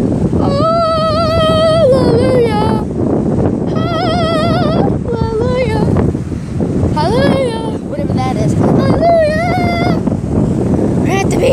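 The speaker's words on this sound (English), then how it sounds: "I don't think you can hear me with all the wind" Strong wind buffets the microphone on a beach, a loud, continuous low rumble that persists under a woman's excited chatter across the whole stretch.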